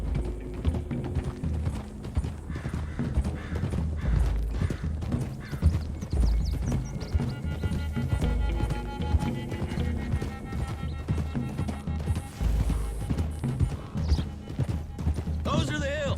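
Horses gallop with rapid, rhythmic hoofbeats, with a neigh and clattering mechanical sounds mixed in under a busy Red Dead Redemption soundtrack.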